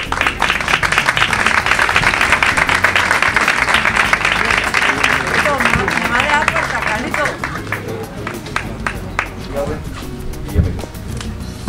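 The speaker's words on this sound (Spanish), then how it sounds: "Un aplauso para él, por favor." Crowd applauding at an outdoor street inauguration ceremony in Rota, Spain: loud, dense clapping that thins and fades over several seconds, with voices chattering among the crowd as it dies down.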